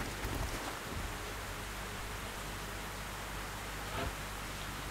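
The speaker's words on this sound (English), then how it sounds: "That rain's fucking loud!" Steady, hissing rainfall in the video game XCOM: Enemy Unknown fills the whole stretch, broad and constant, with a couple of faint thumps near the start.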